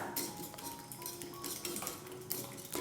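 Whisking an egg and salt mixture in a bowl for a toast breakfast, a steady fast clinking and tapping of utensil against the bowl that runs continuously at moderate volume.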